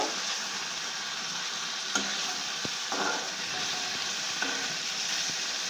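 Shrimp frying lightly in a pan for an echor chingri (jackfruit and shrimp) dish, a steady soft sizzle with occasional stirring clinks, close and alone without talk.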